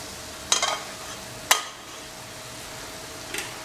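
Onions and tomatoes frying in a pan for a mutton ribs masala, a soft steady sizzle broken by two sharp stirring scrapes and a faint third one, with no talk.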